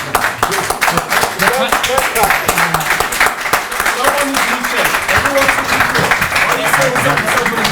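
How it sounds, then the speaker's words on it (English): An audience at a Sikh community hustings claps steadily throughout, a dense patter of applause with voices talking underneath. "I think everyone's clapping because we can go home now."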